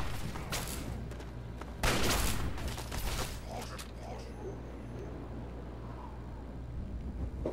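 Enemy gunfire in Fallout 3 cracks out in a few loud, close bursts early on, then fades under steady game ambience, with a player talking over parts of it.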